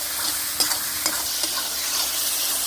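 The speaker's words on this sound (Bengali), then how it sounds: "তেলের মধ্যে আমি হলুদের গুঁড়ি দিয়ে দিয়েছি" Turmeric powder frying in oil while a spoon stirs it, a bright steady sizzle broken by a few scraping knocks against the pan, with no voices.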